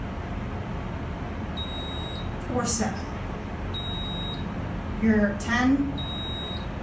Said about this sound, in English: This one beeps consistently for the floor passing